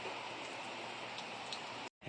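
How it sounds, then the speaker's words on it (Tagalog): Heavy rain pours steadily outdoors as a dense, loud hiss of drops with no talk, cutting out abruptly near the end. "Ang lakas na ng ulan."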